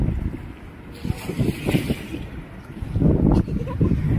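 Gusty outdoor wind buffets the microphone in a steady low rumble, swelling into stronger gusts near the end, with no voices.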